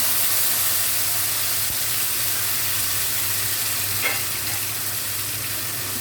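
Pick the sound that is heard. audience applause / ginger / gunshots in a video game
ginger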